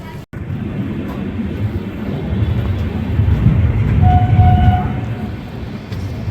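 Intercity Express passenger train 13212 pulling away through Bihar, a steady low rumble of wheels on rail that swells toward the middle and then eases, with a faint whistle-like tone briefly above it.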